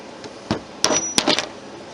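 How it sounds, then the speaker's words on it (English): A hammer taps legs onto a wooden tray with several sharp, close knocks in an uneven rhythm, with no voices. "So I guess I'm back to the hammer."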